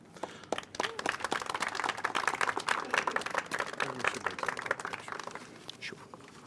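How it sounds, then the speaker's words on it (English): An audience gives a round of applause for the commissioners at a Howard County flag unveiling, dense clapping that builds quickly, holds strong, then slowly thins out toward the end. "Let's have one more round of applause for our commissioners."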